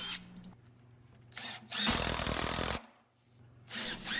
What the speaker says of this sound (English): I'm going to install this also with 3-inch deck screws.